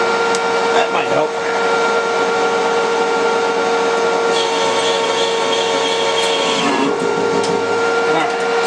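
A Smithy MI-1440L lathe-mill running at 110V while cutting metal: a steady, loud mechanical whine and hum with a strong constant tone, plus brief scraping cutting noises near the start and later on.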